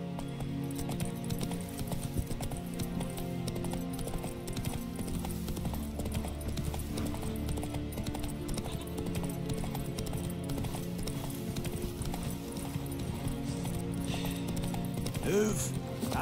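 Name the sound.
horse Roach hooves galloping in video game The Witcher 3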